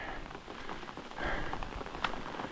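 Steady rain falls close by as a continuous hiss of drops striking a surface, swelling slightly midway, with a sharper spatter near the end and no voices.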